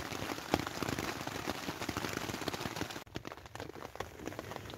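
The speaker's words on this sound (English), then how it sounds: "Listen to the sound of the rain in the tent." Rain patters steadily on a tent during wild camping in a Scottish forest, a dense close crackle of drops on fabric with occasional heavier taps, quiet and unbroken by talk.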